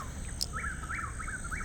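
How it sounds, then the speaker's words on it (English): Rhythmic chirping outdoors at a campsite in Ocala, Florida, resembling a cricket: four evenly spaced short chirps over a steady high insect drone and low background rumble, moderately faint. "it's like a cricket"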